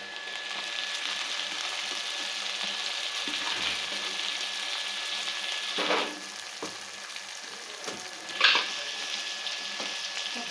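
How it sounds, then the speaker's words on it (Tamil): Tomatoes fry over softened onions in a pan for a crab gravy, with a steady close sizzle throughout and a couple of brief louder bursts of spitting near the end. "தக்காளி நல்லா வதங்கட்டும்."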